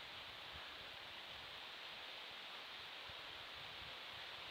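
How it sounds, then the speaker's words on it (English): Outdoor wind picks up in a low, steady hissing wash, faint and continuous without gusts standing out, and no voices are heard. "The wind's getting up now."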